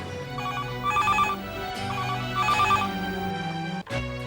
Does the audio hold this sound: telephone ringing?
yes